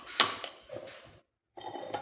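Small metal kitchen utensils clatter and clink as they are handled at home, a few quick sharp knocks followed by a brief silence and then more rattling.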